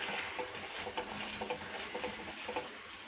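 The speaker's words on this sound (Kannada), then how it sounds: "ಅದು ನೀರು ಕುದಿಯುವಾಗ ಹಿಟ್ಟನ್ನು ಅದಕ್ಕೆ ಎಷ್ಟು ಬೇಕಲ್ಲ ಕನ್ಸಿಸ್ಟೆನ್ಸಿ ನೋಡಿಕೊಂಡು ಹಿಟ್ಟನ್ನು ಹಾಕ್ತಾ ತಿರುಗಿಸ್ತಾ ಬರೋದಂತೆ" Flour stirred into boiling water for a thick mudde-style dough, a steady bubbling sizzle under repeated soft scraping and slapping strokes at an uneven rhythm, close and fairly quiet, with no talking.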